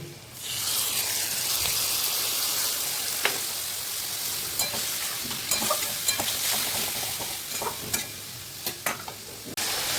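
A paste of ground spices mixed with water sizzles loudly in hot oil, a continuous hiss broken by sharp scrapes and clicks of a spoon stirring the pan, with the sizzle easing near the end.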